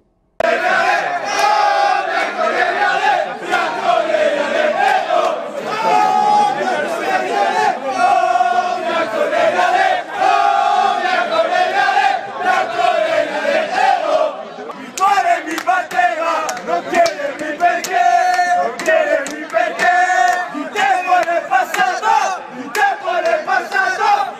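Juventus fans at night in Madrid before a big match, a large crowd chanting loudly in unison with rhythmic sung phrases and cheering, sustained and close with brief pauses between chants.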